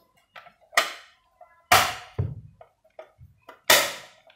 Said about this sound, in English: So this closing makes a small noise, which may ensures that it is now locked.